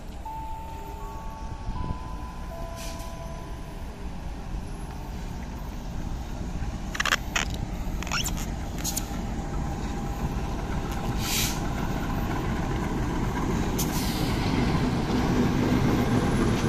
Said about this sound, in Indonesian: ini dia masuk kereta api lokal Merak